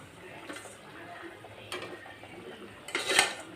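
Pieces of pre-fried fish are dropped into a simmering vegetable-stem curry in a pot, giving soft clinks and a quiet bubbling sizzle, with a louder clatter near the end.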